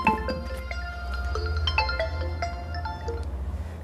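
A phone ringtone plays: a bright electronic melody of quick repeating tonal notes over a low steady hum, moderately loud with no talking.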